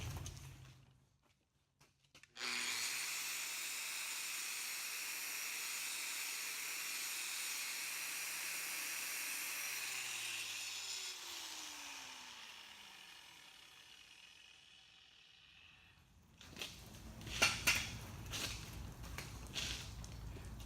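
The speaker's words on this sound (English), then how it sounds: "Get the grinder and clean it up some." An angle grinder cleans up a 6013 stick weld on a steel T-joint practice plate, running as a steady loud whine and hiss for about fourteen seconds before it spins down, followed by some knocking handling sounds.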